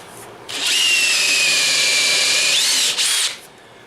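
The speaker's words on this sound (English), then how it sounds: "And I like to use a step bit for this" A power drill with a step bit bores a pilot hole into a stainless steel sink, a close, loud high-pitched whine holding steady for about two seconds, dipping briefly, then a short final burst.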